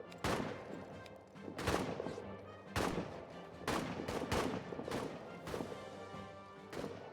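Battlefield gunfire in the trench-warfare video game All Quiet in the Trenches: irregular, sharp rifle cracks and heavy impacts crash out every second or so over a low rumble, with no one speaking.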